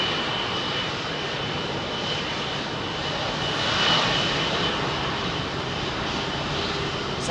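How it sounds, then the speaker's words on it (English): Singapore Airlines jet engines roaring up to power at London Heathrow on runway 27R, a loud, steady broadband rumble close by, swelling slightly midway and holding strong throughout with no talk. "Hear that Singapore Airlines firing up"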